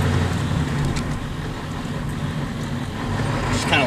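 Steady, close engine drone and road rumble from a manual-transmission car accelerating in third gear, continuous throughout and swelling slightly toward the end, with no talking.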